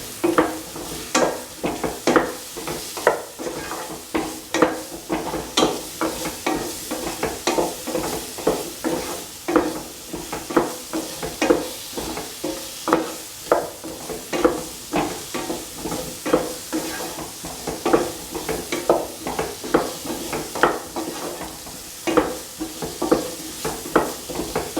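Taro, tomatoes and coriander powder sautéing in a pan, with a steady sizzle under repeated scraping stirs of a spoon against the pan, close and rhythmic throughout.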